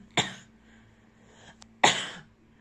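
Two sharp, explosive coughs about a second and a half apart, close and fairly loud, with a brief faint click between them, during a postnatal pelvic floor check.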